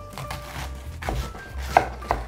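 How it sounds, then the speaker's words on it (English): A knife chops cabbage on a cutting board in a home kitchen, a few spaced, close thuds of the blade striking the board, with no talking. "now we're gonna get to chopping. I want this to be a little bit thinner. So, I'm gonna cut that up."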